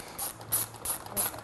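A small ratchet turning 10 mm screws out of a car bumper, a few quick faint clicking strokes in close succession, with nothing else heard.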